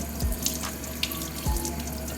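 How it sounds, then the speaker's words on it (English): Cool water runs steadily from a kitchen tap while a boiled egg is peeled under it, with a couple of soft low thumps and light clicks over the continuous stream and no voices. "peel it under some cool running water so that the shell can come off easily"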